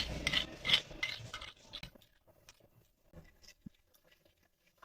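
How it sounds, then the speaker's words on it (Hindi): A spoon stirs spices into yogurt in a bowl, giving soft wet scraping and clinking strokes that are busiest at first and then thin out into sparse, quiet taps. "चम्मच की मदद से इन सारी चीजों को मिक्स कर लेते हैं हम।"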